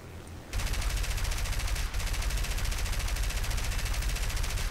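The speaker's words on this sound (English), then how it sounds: "See if we can actually shoot at him." Rapid continuous machine-gun fire from the guns of an I-15R biplane in War Thunder, a loud, dense rattle that starts abruptly and sustains with a brief hitch, close and alone.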